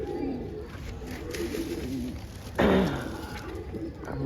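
A pigeon coos in a neighborhood area, a soft repeated call over a steady background, with a louder burst midway; a faint voice may be present.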